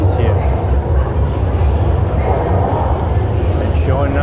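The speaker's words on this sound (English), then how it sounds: "And here comes the train." Shanghai metro train pulling into a station, a loud steady rumble and rushing roar filling the platform, with a rising whine of brakes near the end.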